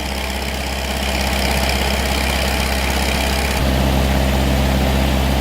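A large engine-driven water pump runs steadily while draining a shrimp pond outdoors, a loud continuous drone with a strong low hum that steps up slightly in pitch and level partway through.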